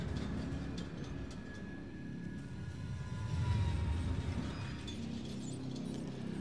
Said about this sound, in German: wenn man Kopfhörer auf hat und dann kommt der Zug und der protzt sich da weg von hinten und das macht so einen Schlag